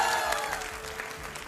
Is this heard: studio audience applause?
yes